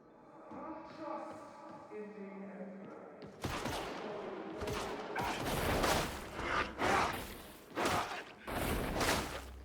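A barrage of enemy gunfire in the video game Darktide bursts in after a quieter musical stretch, with dense rapid shots and heavy thumps repeating close and loud.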